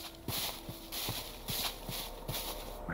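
Bison footsteps thud in an even, regular walking rhythm in the video game Minecraft, moderately close, over a soft background hiss and with no talking.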